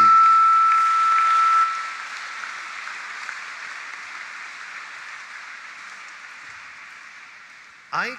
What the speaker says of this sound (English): Can we give a round of applause to our dear saint?